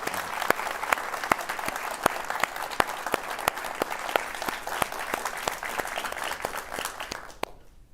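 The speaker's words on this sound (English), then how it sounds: "So please, once more, audience, give Mike Braddell a round of applause." A studio audience at a live gardening show applauds, with steady clapping throughout and several sharp, individual claps standing out close by before it cuts off at the end.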